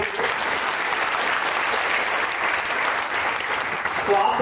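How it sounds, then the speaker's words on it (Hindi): A seminar audience in a hall bursts into sustained, dense applause that holds steady and loud from start to finish. "जबरदस्त तालियां होनी चाहिए आप सभी।"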